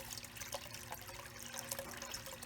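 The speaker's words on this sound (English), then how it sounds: "I keep adjusting the water back and forth just to see how it's moving the material." Water trickling and splashing through a sluice box as gold paydirt tailings are worked, a steady close flow with faint drips and small splashes throughout.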